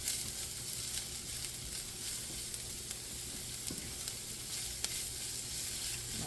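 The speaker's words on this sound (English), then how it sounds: "I'm going to saute this for a few minutes till you start to see through the onion" Garlic, white onion and the white parts of green onion sauteing in a skillet, a soft, steady sizzle with occasional faint utensil clicks and stirring, no talking.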